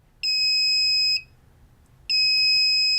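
Two loud, steady electronic beeps from the buzzer of a homemade 4-bit clock kit, sounding as a countdown timer. The first tone lasts about a second, then a short gap, then the second tone, close and clear over a faint low background.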